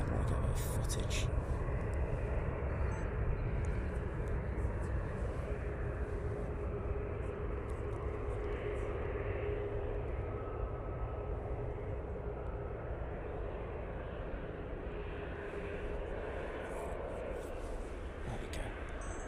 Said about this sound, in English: I'm going to get the Emirates pushing back because I want to get a bit of footage